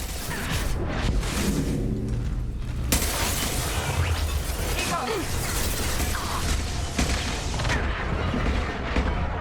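Explosions in the video game Mass Effect 2 boom and shatter amid dense mechanical combat noise, loud and continuous throughout, with a talking voice mixed underneath.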